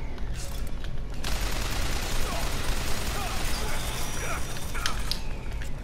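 Turret gunfire in BioShock Infinite: a dense, steady roar of rapid shots runs for several seconds at a loud, close level, with a few sharper cracks standing out near the end.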